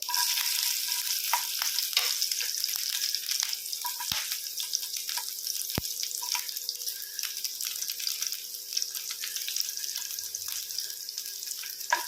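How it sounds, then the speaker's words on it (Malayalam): Mustard seeds pop and splutter in hot oil along with chopped ginger, garlic and green chili, a steady close sizzle broken by sharp crackles and a few louder pops, with no one speaking. "അപ്പോൾ കടുക് പൊട്ടുന്നുണ്ട് അതിലേക്ക് നമ്മൾ ഒരു ചെറിയ കഷ്ണം ഇഞ്ചി അരിഞ്ഞതും വെളുത്തുള്ളി ചെറുതായിട്ട് അരിഞ്ഞതും"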